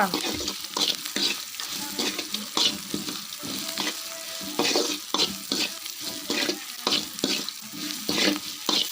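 Onions sautéing in a pan for North Indian dal: a close, continuous sizzle broken by rhythmic scraping strokes as they are stirred, with no voices.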